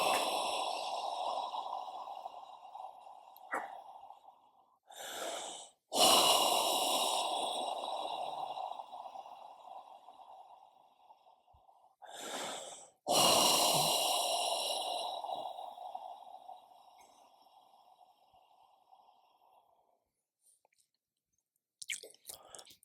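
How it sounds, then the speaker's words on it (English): During a guided Buddhist meditation, a person takes three long, deep breaths, each with a loud breathy inhale and a slow, sighing exhale, heard close and alone with quiet gaps between them. "Take 3 deep breaths and sigh with relief."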